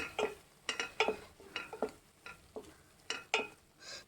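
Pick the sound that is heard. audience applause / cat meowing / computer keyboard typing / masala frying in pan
masala frying in pan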